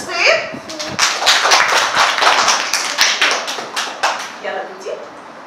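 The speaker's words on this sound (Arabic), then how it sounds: "أحسنتي. تصفيق." Students in a classroom clap in a quick, uneven run of sharp hand claps close by, with a voice speaking briefly at the start and end.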